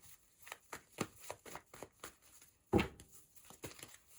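Tarot cards being shuffled by hand in a quiet room, a steady run of soft riffling flicks with one sharper, louder snap near the end, no voices.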